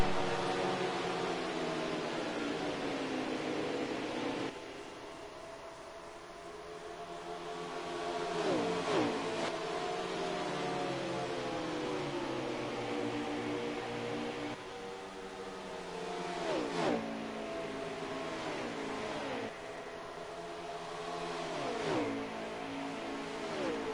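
Race cars at speed during a championship race broadcast, their engines rising and falling in repeated whining passes with pitch sweeps, a continuous loud drone punctuated by cars roaring by, no talk.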